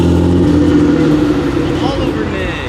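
A built JDM car's engine runs loud and steady close by, a dense low rumble throughout, with people talking over it.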